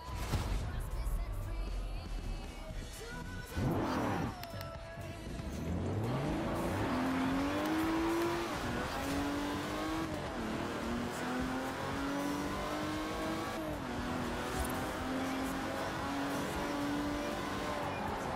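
Forza Horizon 4 race car driving, engine revving and rising through gears with tire squeal, loud and continuous with a brief burst of skidding early on.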